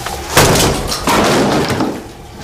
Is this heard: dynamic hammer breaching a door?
yes